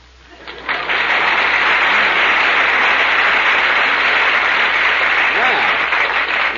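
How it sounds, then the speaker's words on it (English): A radio show studio audience at a 1938 Jack Benny Easter program bursts into applause, swelling within the first second into sustained, dense clapping that holds steady and loud to the end. "Applause."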